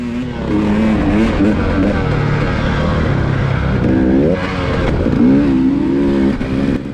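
Dirt bike engine at a hare scramble race, revving and rising in pitch through repeated throttle bursts, loud and close throughout with no talking.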